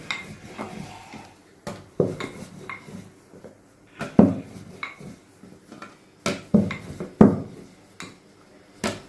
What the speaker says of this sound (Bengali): এই যে এখন রুটিটা করে নিচ্ছি